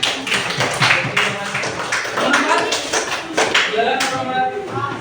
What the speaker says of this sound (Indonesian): tepuk tangan untuk Rehan